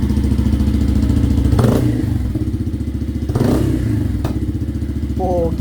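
A Yamaha PG-1 motorcycle idles steadily at close range, its engine and exhaust giving a continuous low throb with two short louder blips of throttle and a few clattery knocks.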